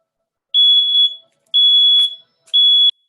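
An alarm beeping loudly indoors, three long piercing electronic tones about a second apart, with brief clicks between them and no talking.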